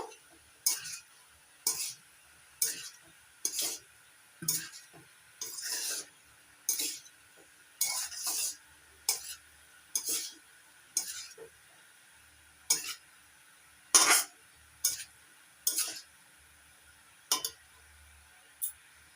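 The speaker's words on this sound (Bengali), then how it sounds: "এবার দিয়ে দিচ্ছি ভেজে নেওয়া ডিম ভালো করে মিশিয়ে নেব" Fried egg stirred into pasta in a pan, a spoon clinking and scraping against the metal in about twenty steady, evenly spaced strokes, close and clear with a faint sizzle and no talking.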